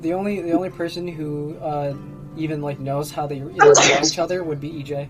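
A sharp sneeze bursts out once near the end, loud and close, in the middle of a conversation as a tabletop role-playing group keeps talking around it.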